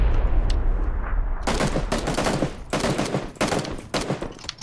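SKS rifle gunfire in PUBG, a battle royale game, with loud, sharp shots in quick bursts after a quiet stretch and an irregular rhythm of several volleys.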